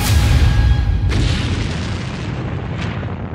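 A Lancet drone strikes a Ukrainian tank in a war zone: a sharp, distant blast cracks out over a low rumbling background, followed later by a second fainter burst.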